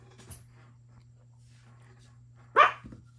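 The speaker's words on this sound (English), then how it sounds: "what are you barking at?" A single sharp dog bark rings out close by in a quiet room, loud and brief, with a faint earlier yip and a steady low hum underneath.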